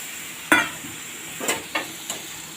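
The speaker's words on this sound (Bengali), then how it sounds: "তবে ভালো করে এইভাবে এটাকে সাঁতলে নিতে হবে" Chopped banana stem ghonto sautéing in a pan with a faint steady sizzle, broken by four sharp scrapes of a spatula stirring the mixture, one loud and three softer, spaced irregularly.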